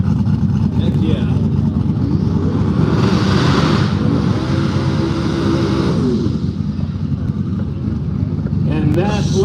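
Ford Mustang race car with a 281 cubic inch 3-valve engine at a no-prep drag race in the woods, a loud sustained engine roar surging and swelling mid-run amid crowd noise and announcer talk.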